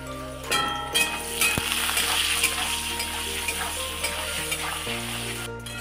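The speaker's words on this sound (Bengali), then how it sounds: "সেদ্ধ করা আলুগুলো ভেজে নেব" Boiled potatoes fry in hot oil in a wok, a steady close sizzle with occasional stirring scrapes and clinks of a utensil against the pan.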